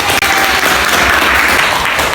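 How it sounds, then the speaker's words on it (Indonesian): A classroom of pupils claps loudly and close-up during a school lesson, a dense, continuous patter of many hands that begins right after a short gap and carries on steadily without talk. "Tepuk tangan buat saya."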